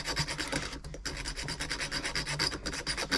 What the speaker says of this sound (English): What I normally do with these is just file them down.